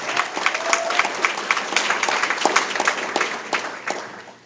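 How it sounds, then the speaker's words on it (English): A room full of people at a chamber of commerce member showcase applauds steadily, dense overlapping claps with a few sharper individual ones, continuing at even strength to the end. "another round of applause for our ambassadors"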